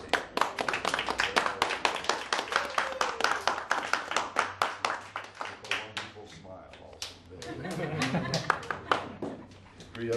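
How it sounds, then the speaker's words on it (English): Guests at a wedding ceremony clap, a quick dense patter of many hands that is loud and close at first and then thins out, with murmured voices mixed in. "Let's give applause on his wedding."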